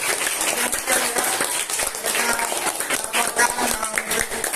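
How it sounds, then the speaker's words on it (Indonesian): An audience gives the TV reporters a round of applause: steady, dense clapping that carries on evenly for several seconds without a break. "Tepuk tangan buat"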